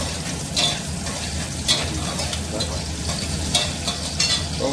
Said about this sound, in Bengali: এবার আমরা মশলাগুলো একটু ভেজে নিই।